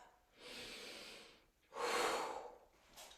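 Two deep breaths are taken close by during a strength flow exercise class, a long airy inhale followed by a fuller, stronger exhale, then a brief faint third breath.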